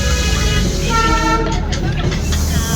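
Darjeeling toy train with a vistadome coach, its horn sounding a sustained, loud tonal toot over the steady rumble of the moving carriage, heard from inside the coach.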